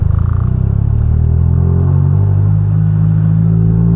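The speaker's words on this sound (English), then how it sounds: "Oh, you can hear the trans isn't happy." A manual-transmission car with a badly worn first gear, driven uphill without the clutch, gives a loud, strained drone whose tone climbs and wavers as the gearbox labours.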